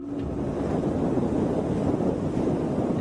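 Strong wind blows on a windy night in Spain, a continuous low rumbling roar buffeting the microphone without pause and with no voices.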